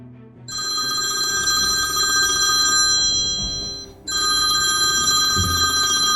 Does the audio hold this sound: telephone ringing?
yes